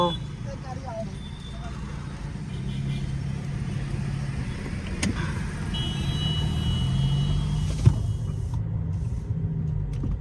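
A car drives off with a steady low engine rumble that builds slightly, heard close from inside or beside it, with a sharp click partway through and voices talking over it.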